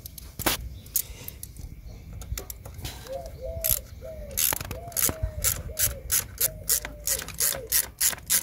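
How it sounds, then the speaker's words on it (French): A hand ratchet clicks in quick bursts of close metallic pawl ticks while removing the sprocket cover on a Rieju RS3 motorcycle, with pauses and fast spinning runs between turns. "Là je vais enlever le cache-pignon parce qu'il va me gêner."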